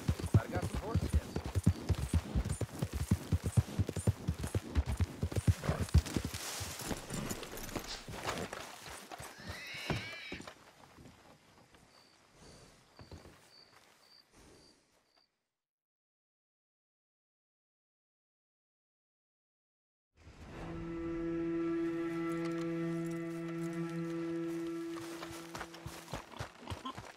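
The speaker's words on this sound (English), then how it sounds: "Might have got some horses in." Horses in a Western video game whinny and neigh close by, with clip-clopping hooves mixed among game dialogue and music early on, then a sustained tonal musical passage after a brief silence.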